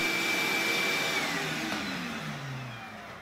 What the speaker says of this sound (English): Here I'm cutting the saddle slot